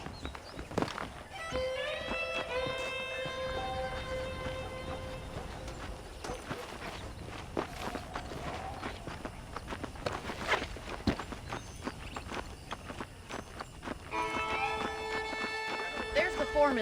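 Steady horse hooves clip-clopping at a walk in the PC game Red Dead Redemption, with chiming musical tones and someone talking over the hoofbeats.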